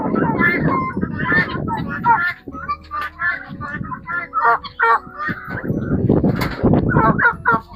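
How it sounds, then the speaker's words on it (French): Turkeys gobble and cluck close by in a noisy pen on a livestock farm, overlapping with other fowl calls and a person speaking. "Il y a aussi les dindons."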